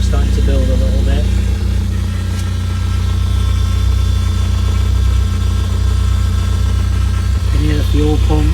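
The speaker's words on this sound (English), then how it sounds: "You can hear the fuel pump." A 1991 Vauxhall Nova GSi idling after a cold start, running low on fuel and a little smoky, with a steady, loud, close engine drone and a faint fuel-pump hum; someone speaks briefly at the start and end.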